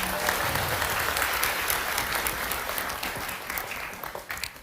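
An audience applauds immigration staff at an evening gathering with steady, dense clapping that thins out toward the end, and no talking.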